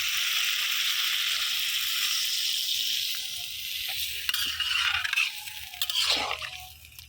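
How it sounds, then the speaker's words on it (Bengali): Eggplant curry sizzling steadily in a pan; partway through, broth is poured in and the hiss breaks into bubbling, splashing crackles that fade off at the end. "এখন আমি দিয়ে দিব ঝোলটা, পরিমাণ মতো ঝোলটা দিয়ে দিব।"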